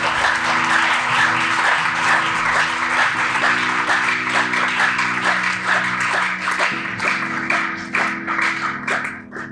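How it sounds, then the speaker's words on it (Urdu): Loud, sustained applause from a church congregation at a Feast of the Ascension service, dense clapping running throughout with a steady organ or keyboard tone held underneath. "زوردار تالیاں۔"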